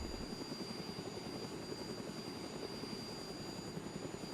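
A helicopter in the DayZ Expansion Mod video game whirs with a steady, dense rotor and engine roar, quiet overall and continuous without any voices.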